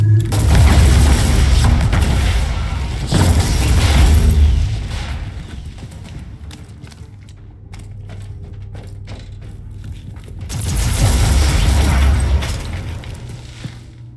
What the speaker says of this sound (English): Let's go back to the shotgun for these guys.